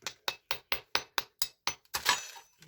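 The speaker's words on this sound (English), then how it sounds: "Just tap the top" Eight or nine quick, evenly spaced taps on the top of a bath bomb mold, sharp and close, followed by a brief scraping rustle as the mold shifts.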